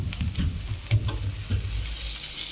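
Prawns dropped into masala already roasted in hot oil, giving a close, steady sizzle and frying crackle with a few stirring knocks, no voices.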